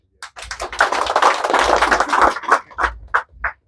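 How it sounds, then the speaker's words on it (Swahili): A crowd at a community gathering in Kariobangi breaks into applause, a dense burst of clapping that swells for a few seconds and then thins into scattered separate claps before stopping. "Jipigieni makofi."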